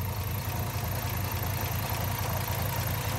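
A 1963 Studebaker truck engine idles steadily and smoothly, slightly slow, with a continuous low rumble and even pulsing throughout, close by and with no talking.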